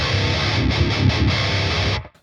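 An electric guitar played through the WaveMind amp simulator on its Barefoot 1 setting gives loud, distorted chords strummed in a quick rhythm that cut off abruptly near the end.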